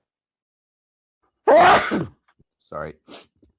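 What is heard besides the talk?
sneeze from a person with a cold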